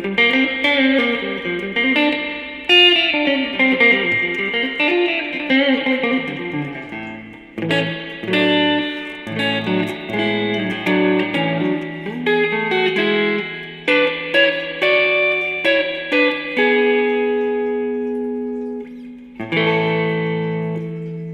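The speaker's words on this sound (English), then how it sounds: "The reverb gets really deep." Electric guitar, a 2000 Samick GT-1 Flying V, through a 1982 Dean Markley RM-150-DR amp drenched in deep reverb, chords and single notes ringing into long, spacious tails, loud with no voices.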